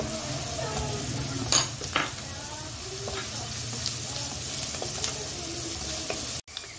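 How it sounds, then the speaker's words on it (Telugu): Onions sizzle in a hot pan as green chillies go in, a steady frying hiss running throughout, broken by a few sharp clinks of a spoon against the pan. "ఇలా ఆనియన్ వేగుతుండగా పచ్చిమిర్చి యాడ్ చేసుకోవాలి."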